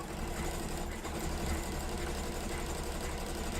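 A sewing machine runs a steady overcast stitch along a denim seam, its continuous motor hum and needle chatter holding an even level throughout with no pauses or talk.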